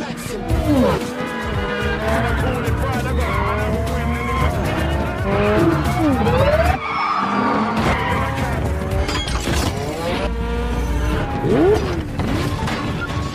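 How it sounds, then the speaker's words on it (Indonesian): Roaring engines and screeching tires in a frantic chase, with repeated skids, revving and a crash-like bang, loud and close. "Kemudian ia memasuki mobil, lalu Brickton mengejarlah. Terjadilah uber-uberan"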